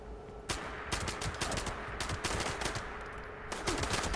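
Shotgun fire in the video game Fallout 76, several loud, sharp blasts spaced irregularly about half a second to a second apart over a constant background din of combat noise.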